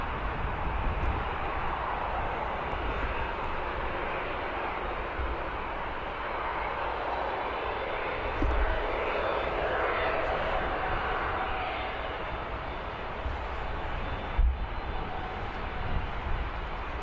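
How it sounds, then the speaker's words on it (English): Airliner arriving at Birmingham Airport, heard as a continuous distant engine rumble and roar that holds steady throughout at a moderate, faraway level. "arriving before that is Lufthansa A320 from Frankfurt"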